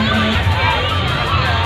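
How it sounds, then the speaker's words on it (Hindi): A large crowd at the Red Fort fair in Delhi, packed around a queue for a fairground ride, fills the air with loud, continuous babble of many voices close by. "इस झूले के लिए बहुत ही ज़्यादा भीड़ है"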